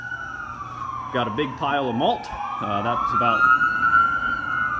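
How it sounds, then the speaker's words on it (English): An emergency vehicle siren wails outside the production area of Sandhills Brewing, a slow rising and falling tone running steadily beneath someone talking nearby. "apologies for the sirens"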